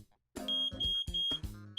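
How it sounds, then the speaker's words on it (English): Smoke alarm sounding during a home test, a loud shrill beeping in four quick pulses close by, no talk over it. "know what triggers a smoke alarm?"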